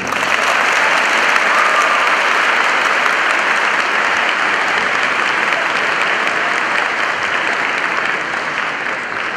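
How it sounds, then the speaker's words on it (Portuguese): Steady, dense applause from a large audience at a scientific congress in Araras, Brazil, welcoming a guest speaker; loud and sustained throughout, tapering only slightly near the end. "Então, com vocês, uma salva de palmas, Amir Klink."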